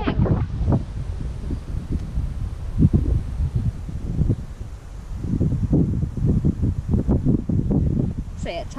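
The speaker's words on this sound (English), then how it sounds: "Oh, this wind is so annoying." Strong wind buffets the microphone at an outdoor allotment plot, heavy low rumbling gusts rising and falling throughout, close and loud with no clear talk.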